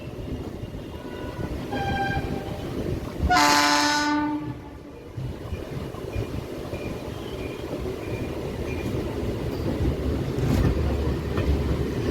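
A loud train horn blasts for about two seconds over the steady rumble of trains moving through Howrah Junction, a busy railway station, then fades into continuous rail and platform noise.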